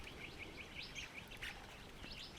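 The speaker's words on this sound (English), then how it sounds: "flock of yellow-throated miners appears and proceeds to bathe and drink at the trough" Yellow-throated miners flock at a water trough in Australian mallee, giving repeated short chirping calls over a steady background hiss, fairly faint with no talk.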